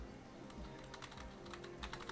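Rapid typing on a computer keyboard during a combat video game, a steady stream of close clicky keystrokes over a dense, loud game soundscape.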